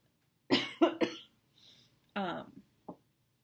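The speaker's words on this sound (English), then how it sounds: "I have to cough." A person coughs several times in short bursts, a quick cluster of three, a faint one, then a longer harsh cough and a final small one, close by.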